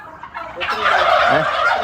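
A turkey lets out a loud, rapid gobble, close by and alone, lasting under two seconds.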